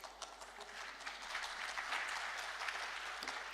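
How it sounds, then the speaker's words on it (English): A conference keynote audience gives steady, dense applause that holds at an even level throughout, with no talking over it. "Yes, it's a big clap for her."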